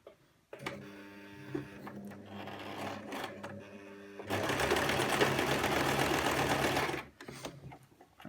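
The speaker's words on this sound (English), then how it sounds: "Pull everything into alignment, and then sew along the edge of that skirt." A sewing machine stitches along the raw edge of a skirt, running in a steady mechanical whir that starts, holds and then surges louder and faster for a few seconds before stopping, close up with no talking.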